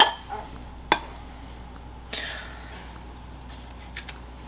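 An ice cream scoop portions pumpkin cupcake batter, giving a few soft, scattered scrapes and light clicks against a bowl and pan, close and quiet with pauses between them.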